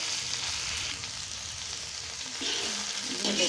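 Okra (bhindi) fries in a pan with a close, steady hiss and crackle that swells slightly near the end, and no talking over it.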